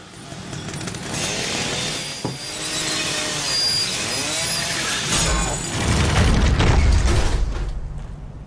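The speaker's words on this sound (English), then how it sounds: "Chainsaw this motherfucker." A chainsaw in The Evil Within on PS4 whines and revs with rising and falling pitch, grinding into a heavy, booming cut near the end, loud and close without speech.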